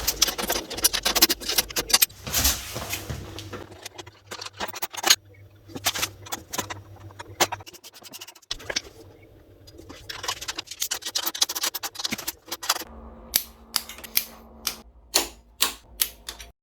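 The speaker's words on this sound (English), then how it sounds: "I just have to tighten all my bolts" Bolts being tightened on Heed crash bars fitted to a KTM 1290 Super Adventure S motorcycle, heard as close, crisp metallic clicks and scrapes that end in a steady run of evenly spaced ratcheting ticks.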